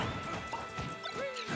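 A Lucario down smash in a Super Smash Bros match lands as a sharp crashing hit amid brief electronic whooshes and chimes, with quick impact bursts over a busy game mix.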